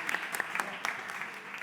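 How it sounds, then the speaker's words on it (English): Brief, moderate applause from a conference panel audience, scattered claps pattering unevenly for under two seconds. "please a big applause"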